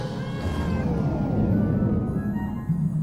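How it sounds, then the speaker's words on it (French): Kittens meow in a French fantasy audio drama, a continuous cluster of high, overlapping mews over a low rumble, fairly loud and with no speech. "C'est quoi ces démons Des chatons"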